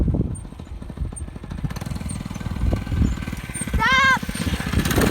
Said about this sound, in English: turn off the engine real quick